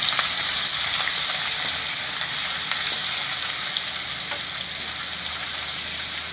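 Asafoetida and chili pieces crackling in hot oil as a tempering for vaghareli khichdi, a loud, continuous, dense sizzle heard close up with faint ticks and pops running throughout.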